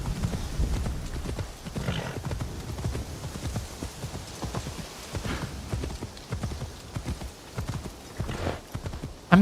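Horse hooves clip-clop steadily in a shinobi video game set in a bamboo grove, a continuous irregular trotting patter with occasional snorts, close and fairly loud over faint ambient noise.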